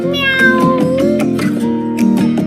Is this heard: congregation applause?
no